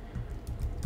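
A short burst of close typing on a computer keyboard, a few quick key taps over low background rumble.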